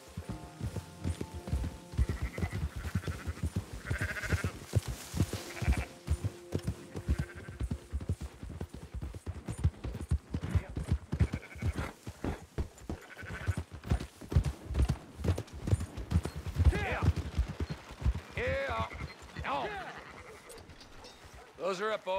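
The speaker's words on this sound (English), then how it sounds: "Fine sheep." Repeated sheep bleats in the video game Red Dead Redemption 2 rise over a busy run of hoof-like clops and clicks, with voices joining in near the end.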